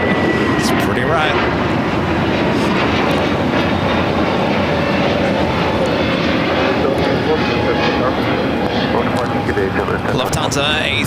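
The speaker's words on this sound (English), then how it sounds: "Lufthansa A380 Super, Flight 452, coming in from Munich, now heading to the gates." Lufthansa Airbus A380 taxiing to the gates at LAX, a loud sustained engine rumble and whine with people talking over it throughout.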